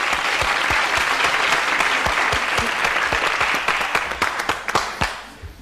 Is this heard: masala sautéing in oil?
no